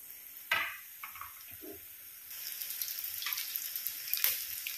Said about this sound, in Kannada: ನಮಗೆ ಇಲ್ಲಿ ಫ್ರೈ ಆಗಲಿಕ್ಕಿದ್ದದ್ದು ಮೇಲಿದು ರವೆ ಮತ್ತು ಮೈದಾ ಏನು ಕೋಟ್ ಮಾಡಿದ್ದೇವೆ ನೋಡಿ ಅದು